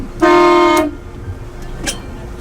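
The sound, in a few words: boat horn sounded before turning to starboard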